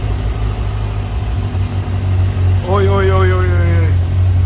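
A Kawasaki ZX-6R sport motorcycle engine idles on its first start, a loud, steady low rumble. Partway through, a man calls out over the engine.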